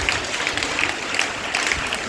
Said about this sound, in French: Applaudissons pour le Seigneur Jésus-Christ.